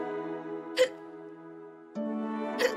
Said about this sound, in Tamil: என்னங்க விக்கல் நிக்கல போலயே?